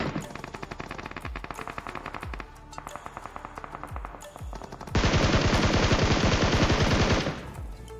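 Rapid automatic gunfire in a battle royale shooter match, bursts of loud close shots with a denser, sustained stretch of fire near the end, no talking.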